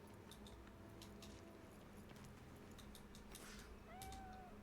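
A small cat meows in a futuristic city video game, a faint short mew near the end over a busy hum of ambient background.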